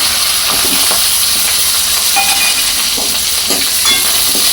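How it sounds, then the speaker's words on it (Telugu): Mustard seeds, urad dal and curry leaves fry in hot oil with a loud, constant hissing sizzle and small pops and crackles throughout, close by and without speech. "కొద్దిగా ఆవాలు కొద్ది మినపగింజలు కరివేపాకు వేసుకోవచ్చు"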